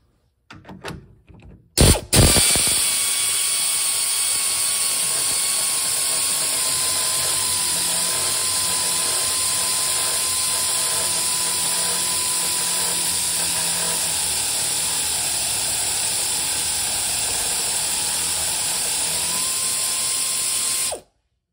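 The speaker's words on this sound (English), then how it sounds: "I'm going to see if I get lucky or not using this air ratchet under here" An air ratchet under a 1967 Ford Falcon works on the bottom nut of an air shock. Short bursts at first, then one loud, continuous pneumatic whir held for about eighteen seconds before cutting off.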